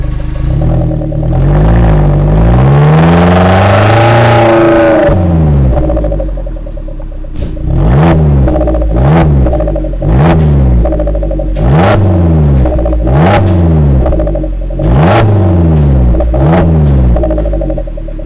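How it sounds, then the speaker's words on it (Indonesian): A Suzuki Jimny JB74 offroad build fitted with a Borla exhaust revs up close and loud. One long sweep climbs and falls, then a steady run of about eight sharp throttle blips with a deep rumble between them. "Ini dia Borla yang buat khusus emang Jimny punya nih, JB74"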